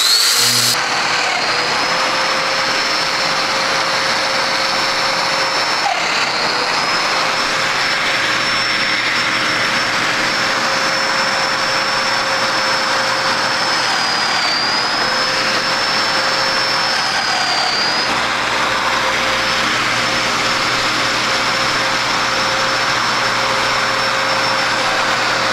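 A Festool Domino joiner cuts a mortise into a wooden gate stile, making a loud, steady motorized whine with a high pitched tone that holds unbroken for about twenty-five seconds.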